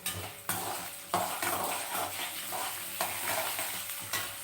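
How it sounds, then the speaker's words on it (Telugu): Green chillies fry in a pan for rice rava uppudu pindi with a quiet sizzle, broken by repeated scraping strokes of a spoon and the odd light knock against the pan. "ఇప్పుడు ఇందులోని మనము పచ్చిమిరపకాయలు వేసుకుంటాం"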